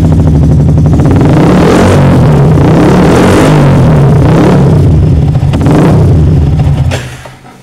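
A Yamaha R15 motorcycle engine with an overcharging fault revs hard and loud at close range, holding a high rasping roar with small surges before dropping away quickly at the end.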